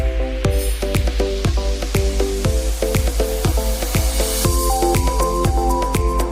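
A semi-automatic beer bottle filling machine runs with a steady mechanical hum, while sharp, evenly spaced clanks and ringing glass knocks repeat roughly every half second as bottles are filled, with no voices.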